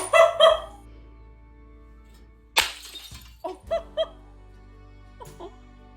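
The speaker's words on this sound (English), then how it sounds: "let's smash it. Let's smash it on the floor here." A ceramic pig-shaped plate smashes on a floor in one loud sharp crash, and shards clatter and skitter for a few seconds afterward. A dog barks twice just before the crash.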